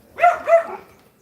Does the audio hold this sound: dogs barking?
yes